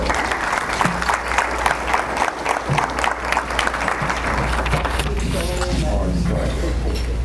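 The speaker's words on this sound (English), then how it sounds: "Let's give a round of applause to Dr. Garza." An audience at a college leadership luncheon claps in a sustained round of applause that fills the room, then tapers off toward the end.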